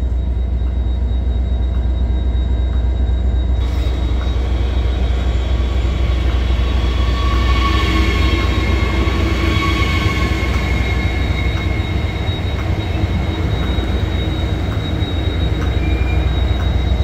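Fast train rushing through a station platform, a steady loud rumble and rail roar with faint wheel squeal building in the middle, no voices.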